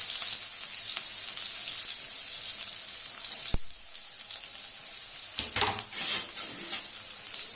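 Chopped onions and green chilies hit hot oil for a chicken keema curry, giving a loud, bright steady sizzle close by, with a sharp clank of a utensil partway through and light stirring.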